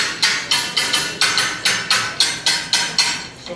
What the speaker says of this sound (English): We got wrenches, and we tied them up to metal so it gets a bit of a rattle